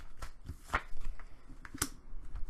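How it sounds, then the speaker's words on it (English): Tarot cards shuffled by hand, a pile riffled and slid in several quick, crisp bursts of papery flicks, close and moderately quiet with no talking. "So let me just shuffle the third one."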